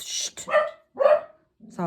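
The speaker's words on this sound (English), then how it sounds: "Sorry, my dog." A pet dog barks indoors during a crafting session on a steampunk journal, two loud close barks with a short yelp at the end.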